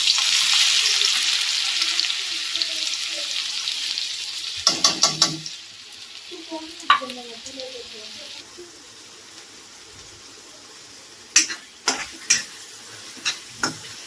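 Chopped onion dropped into hot oil for homemade sukka chicken, a loud hissing sizzle for the first few seconds, then it dies down into scattered clinks and scrapes of stirring in a quiet kitchen.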